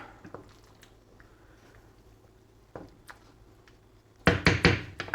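A spoon stirs tuna chowder with cooked pasta in a pot. Soft, sparse taps come first, then a burst of louder scraping and clattering near the end, with no talking.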